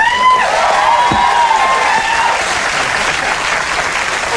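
A late-night television studio audience claps loudly and continuously, a dense wash of applause with a brief voice rising over it at the start, fading slightly toward the end.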